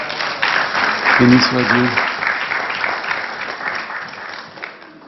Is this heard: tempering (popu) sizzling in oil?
no